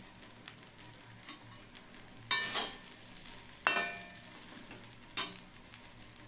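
Chicken kosha with small-cut potatoes is stirred and fried in a pan, with a steady soft sizzle broken by three louder scraping stirs, close up with no talking.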